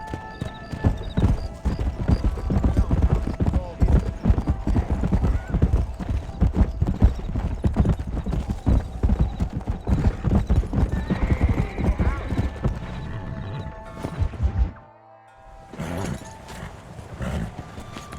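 Horses in the video game Red Dead Redemption gallop with rapid, loud clip-clop hoofbeats and neigh over a busy ranch scene, with voices mixed in, before the hooves drop out briefly near the end and then resume.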